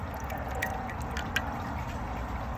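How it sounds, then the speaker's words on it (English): An American Standard Luxor toilet flushes weakly and lopsided, a steady rush and trickle of water running into the bowl, close and continuous with a few small splashes. "Here's another flush."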